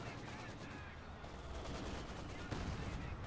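Maxim machine gun fire in the Company of Heroes 2 strategy game, a steady rattle of gunfire blended with battlefield noise and a muffled commentator voice, continuous and fairly faint throughout.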